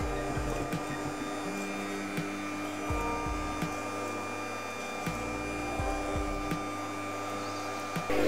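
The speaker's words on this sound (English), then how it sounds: "you want to keep your mixer on low and add in the butter little by little while mixing" A steady electric mixer hum on low speed, beating soft room-temperature butter into chocolate Swiss meringue buttercream, with faint periodic thumps and knocks over the continuous drone.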